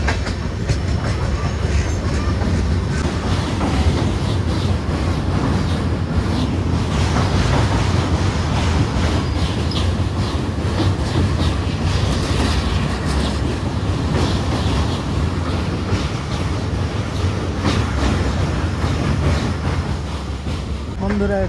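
A train rolls into Chalsa station on the Dooars railway, near forest country, with a steady low rumble and clickety-clack of the wagons filling the whole stretch at close range.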